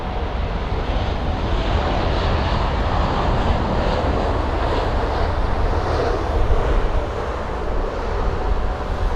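Boeing 777 jet engines at London Heathrow, taxiing out for departure: a steady, broad roar of turbine noise holding level throughout, fairly close and loud, with wind rumble underneath and no voices.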